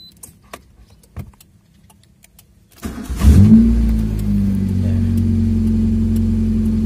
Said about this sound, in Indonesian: Starter langsung greng.